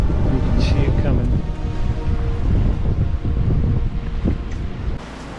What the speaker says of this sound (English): But the wind is kicked up.